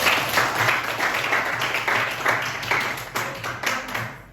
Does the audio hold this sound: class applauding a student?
yes